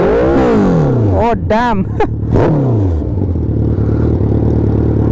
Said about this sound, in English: I'm trying to tune the exhaust, I think it's a bit too loud.